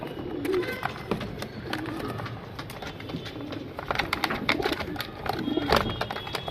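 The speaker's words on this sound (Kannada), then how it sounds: "ಎಲ್ಲ ಒಳ್ಳೆ ಬರ್ಡ್ಸ್ ಇದೆ" Pigeons kept in a lot for sale coo and rustle close by, soft repeated calls and wing shuffles with faint human voices in the background.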